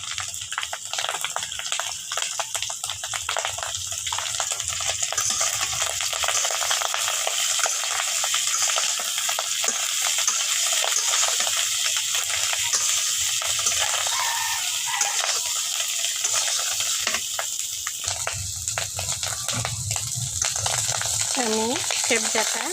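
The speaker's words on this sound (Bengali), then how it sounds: "ফেবজাটাতে এখন আমি একটু হলুদ আর লবণ দিয়ে ভাজে নিব।" Beef lung fries in a pan with turmeric and salt, a loud continuous sizzle with occasional stirring scrapes throughout.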